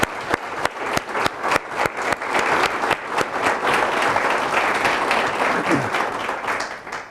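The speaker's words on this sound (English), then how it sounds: "I would ask you all to give these folks a round of applause" An audience at a county budget address breaks into applause, beginning with a few sharp individual claps that quickly swell into dense, sustained clapping from many hands.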